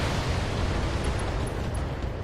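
Explosion from the mech combat video game BattleTech, a sustained, loud roaring blast with a dense rumble that fills the whole moment without any talk over it.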